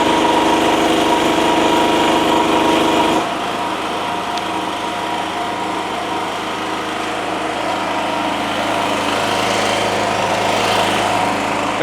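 A pull-start small engine left in a shed for more than five years, running loud and close with a steady high buzzing drone that drops to a slightly lower, rougher idle after a few seconds, with no talking.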